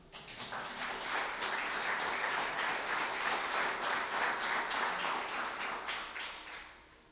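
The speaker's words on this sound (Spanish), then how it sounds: "¿Cuánto le dan un aplauso al Señor?" An evangelical church congregation claps for the Lord, a crowd of hands swelling up quickly, holding a sustained roar of applause for several seconds, then tapering off at the end.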